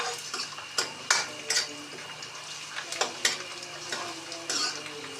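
Food roasting in a pan, soft sizzling under repeated scraping and clinking as a utensil stirs against the metal in an irregular rhythm, close and fairly quiet.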